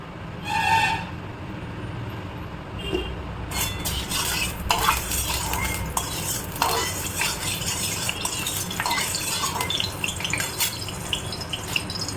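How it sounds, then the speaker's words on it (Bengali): Neem leaves frying in a pan on a home stove, giving a steady close sizzle with scraping and stirring clinks of a utensil against the metal throughout. "এখন নিম পাতাটা ভাজব"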